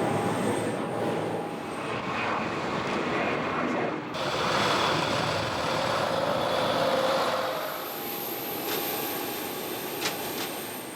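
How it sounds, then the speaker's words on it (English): Passenger airplane taking off, a loud sustained engine roar that swells and holds, heard steadily throughout with no voices over it. "I didn't even feel the plane take off."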